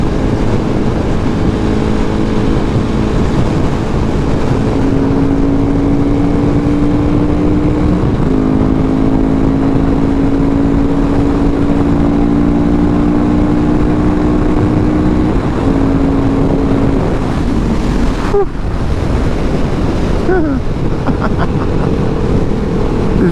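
A 2019 KTM 690 SMCR motorcycle rides at speed with a loud, steady engine drone and heavy wind rush, rising in pitch through the gears, with a brief dip near the end.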